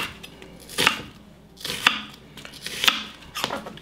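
A knife cuts vegetables into thin julienne strips on a cutting board for chicken fajitas. Four separate, crisp, close chops land about one second apart, with no talking.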